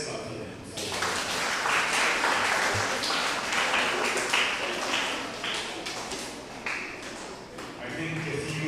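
An audience at a school spelling contest claps for the young spellers, a lively burst of many hands that swells quickly, holds for several seconds and then tapers off.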